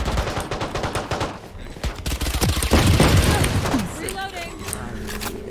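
Rapid gunfire bursts from a tactical shooter match with spike plants and boost, loud and dense, including double shots, under continuous excited commentary from a caster.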